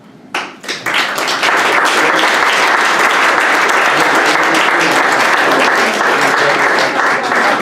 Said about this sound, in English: And I want to applaud to it.